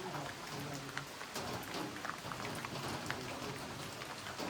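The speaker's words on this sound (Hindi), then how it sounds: "अभी बारिश हो रही है" Heavy rain falls steadily outdoors in a dense, even hiss of countless drops, with scattered louder patters on nearby surfaces throughout.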